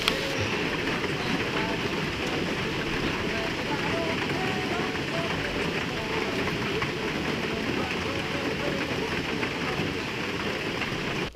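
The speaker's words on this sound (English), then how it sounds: "It is raining hard." Heavy rain pours steadily and loudly in a Maine forest with old hemlocks, thunder starting nearby, a dense continuous roar of drops that lasts throughout without pause.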